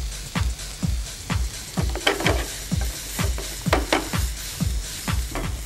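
Finely chopped cauliflower frying with salt in a pan, a rhythmic series of scraping stirs every half second over a steady sizzle, close and fairly loud.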